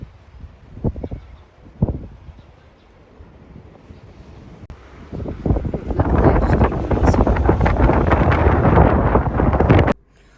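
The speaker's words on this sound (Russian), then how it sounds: "сегодня ветер с порывами до 21 метра в секунду" Wind with gusts up to 21 metres per second rumbles and buffets the microphone in short gusts in Turkey, then swells into a loud, sustained roaring blast before abruptly stopping.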